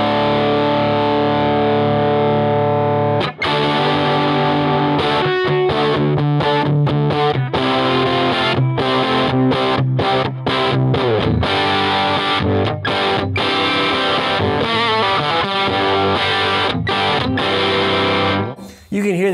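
Electric guitar on the bridge pickup through a cranked Gibson Falcon amp turned down to 2 watts with reverb off, playing loud, heavily distorted riffs and chords with choppy stops and sustained saturated notes, steady throughout.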